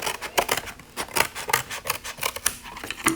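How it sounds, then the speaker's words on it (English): Scissors cut through the top of a cardboard box in a series of about ten crisp, scraping snips at an uneven rhythm, close and clear, with no voices. "So you're going to take your scissors and just cut the top part off here."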